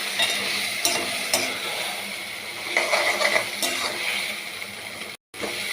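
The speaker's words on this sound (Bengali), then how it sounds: "এবার দেবো ম্যারিনেট করা চিংড়ি মাছটা, এই যে আস্তে করে ঢেলে দিলাম" Marinated prawns go into hot oil with garam masala and are stirred, giving a steady close sizzle of frying with repeated scraping stir strokes and a brief dropout near the end, no voices.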